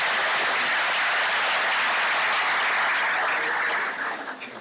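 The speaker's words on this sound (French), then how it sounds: "Est-ce que vous pourriez l'applaudir, s'il vous plaît?" A conference audience applauds in a dense, sustained wash of clapping that holds steady for several seconds, then thins and fades out near the end, with no voices over it.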